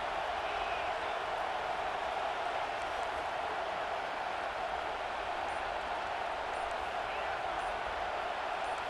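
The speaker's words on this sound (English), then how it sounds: "Listen to this crowd just shaking the girders of this place" A stadium crowd roars in EA Sports College Football 25, a dense, unbroken wall of noise holding at the same loud level throughout, with no breaks or individual voices standing out.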